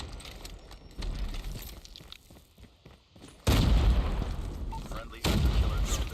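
Gunfire from a first-person shooter match, including a Type 63 rifle, comes in loud bursts, with dense sustained volleys that swell at about 3.5 seconds and again near 5.2 seconds, under steady excited commentary.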